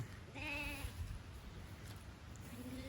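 A ewe on a farm bleats close by, a single wavering cry near the start and a second beginning at the end, over a low rumbling background.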